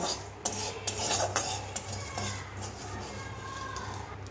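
Spices are stir-fried in a pan over a lowered gas flame: quiet repeated scraping and rubbing of a spatula against the pan, with a faint sizzle beneath and a few sharper clinks.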